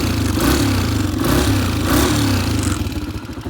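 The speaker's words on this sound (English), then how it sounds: "It's got a additional muffler on there, and it makes it for a quiet ride instead of a loud ride." A 2023 Top Motor 150 four-stroke dirt bike fitted with an extra muffler runs steadily nearby, with a throaty, muffled engine drone and slight rhythmic surges, heard alone.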